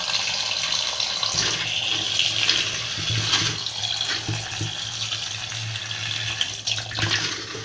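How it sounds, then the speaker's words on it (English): Water pouring from a tap into a blender holding a reddish tomato seed mixture, a continuous splashing flow with a few small clunks, moderately close and without talk. "So now we're just going to add water to this."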